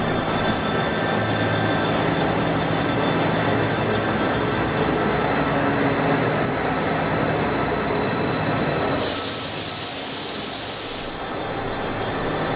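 A steam-hauled train, locomotive 45212, rumbles steadily nearby with a continuous broad roar at Carlisle; a brighter hissing rush swells briefly near the end.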